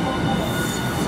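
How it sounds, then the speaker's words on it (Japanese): A tram arriving at a Hiroshima station rumbles and hums steadily up close, a dense continuous metallic drone with faint squeal, no voices. "ちょうどもう次の列車がやってきました"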